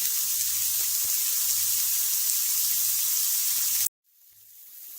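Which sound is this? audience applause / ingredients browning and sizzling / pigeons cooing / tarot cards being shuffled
ingredients browning and sizzling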